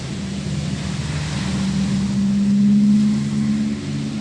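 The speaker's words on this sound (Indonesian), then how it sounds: "Nah, ini sudah kita isi air teman-teman, sudah kita coba ya. Ini proses mencuci, artinya sudah berhasil." A washing machine converted from automatic to manual operation runs a wash with water, giving a loud, steady motor hum over churning, sloshing water that swells slightly toward the middle.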